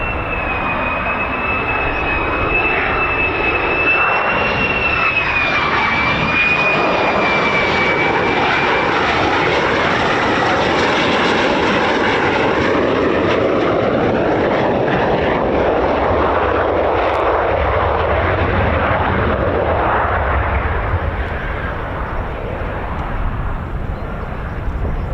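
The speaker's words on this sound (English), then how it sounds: "Look at that, still going with aero braking and finally down." F-15 or F-35 fighter jet landing at RAF Lakenheath, a loud sustained engine roar with a high whine that slides and fades, steady and continuous while the aircraft aerobrakes down the runway.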